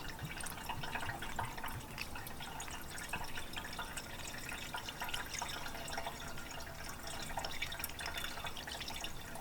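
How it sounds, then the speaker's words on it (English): Amsoil engine and transmission flush, a clear, thin, watery fluid, pours steadily into a car engine, making a continuous soft splashing trickle that stays even and unbroken, with no talking. "we're gonna add this Amsoil engine and transmission flush."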